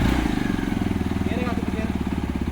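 Motorcycle engine running up close with a rapid, even putter through the gear change, loud and steady beneath people talking.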